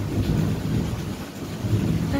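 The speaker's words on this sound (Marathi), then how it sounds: "पाऊस चालूच आहे." Steady rain falls with a low rumbling thunder underneath, heard from indoors by an open window during a storm; the dense wash holds loud and continuous throughout with no voices.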